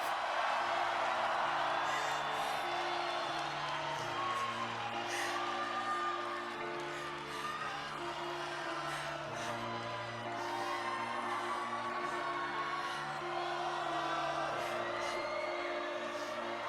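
A concert crowd at a live show by a rock band whoops and cheers steadily over sustained music, loud and continuous throughout with shouts rising above the din.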